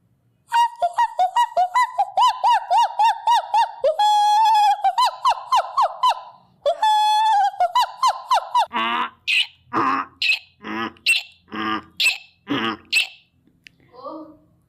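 A voice imitates a monkey's call with a rapid series of high, squeaky whoops and yelps, repeated in quick bursts, loud and close, then breaks into shorter chattering cries.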